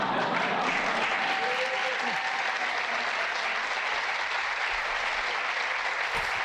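Sustained applause from a crowd at the White House, dense and continuous clapping that stays loud and even throughout without letting up.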